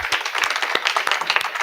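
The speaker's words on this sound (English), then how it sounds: "Please give them all a hand of applause" Applause from an audience at a gathering about Gaza, a brief burst of dense clapping with a few louder individual claps standing out, fairly close and steady.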